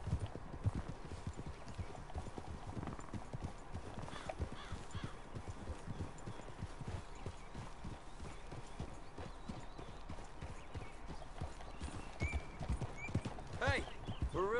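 Horses walk through the trees in Red Dead Redemption 2, their hooves clip-clopping steadily and close by for the whole stretch, with an occasional neigh and people talking over them.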